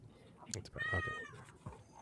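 A cat meows once, a short, faint, rising cry heard in the background beneath quiet talking and room noise.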